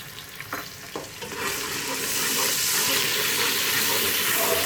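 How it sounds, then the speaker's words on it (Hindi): Ginger-garlic paste sizzles and fries in a hot pan with occasional stirring scrapes, steady and close, growing slightly louder, with no talking. "इसको भूनेंगे अच्छी तरह।"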